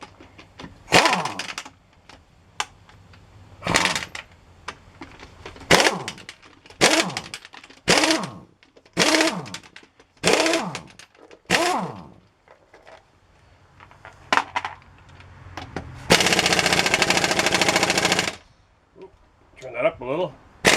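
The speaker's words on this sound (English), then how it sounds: "We'll start by zipping the wheels off." A power tool zips lug nuts off the wheels of a Chevy Silverado or Avalanche ahead of a rear brake job, short sharp impact bursts repeating irregularly, then a longer sustained rattle near the end.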